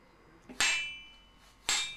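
Two sharp metallic hammer strikes from a craftsman setting the teeth of a handmade Tsurugi forged saw, each ringing briefly and separated by about a second in a quiet workshop.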